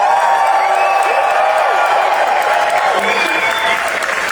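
A large audience at a CinemaCon presentation clapping and cheering, a dense, loud, sustained roar of applause with faint whoops riding on top throughout.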